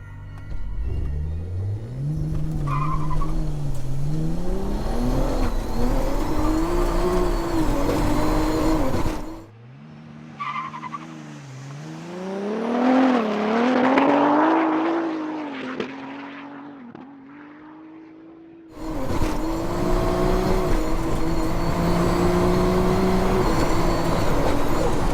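A Nissan R34 GTR at full throttle on a drag strip, its engine climbing in pitch through several gear shifts, dropping away briefly mid-run, then roaring loud and close again.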